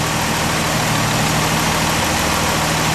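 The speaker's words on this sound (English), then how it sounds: "I want to raise the idle just a little teeny bit." An Austin Healey with triple SU carburettors idles steadily at close range, a continuous even engine drone and exhaust rumble running throughout with no talk.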